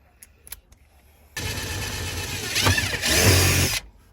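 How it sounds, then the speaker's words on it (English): A power drill whirs loudly and continuously for a few seconds after some light clicks, its pitch dipping briefly as it bites in. "So now we got the two holes drilled."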